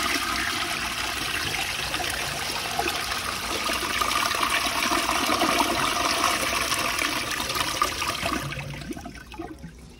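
An American Standard Cadet space saver toilet flushes with a loud, steady rush of draining water that holds strong for about eight seconds, then tapers off to quiet refill trickles at the end.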